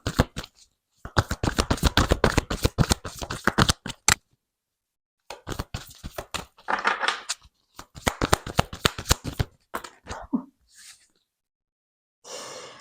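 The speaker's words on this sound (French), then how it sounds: "On va prendre une autre petite carte pour vous." Tarot cards being shuffled and drawn, close and crisp: bursts of rapid riffling flutter separated by short silences, then softer snaps and slides as single cards are pulled and laid down, with no voices.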